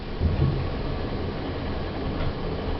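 A lift in a Cambridge shopping centre, descending to the basement: a steady, loud mechanical rumble and whooshing drone, with a brief thump near the start.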